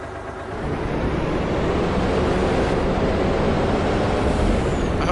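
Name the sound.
truck engine in Farming Simulator 19 video game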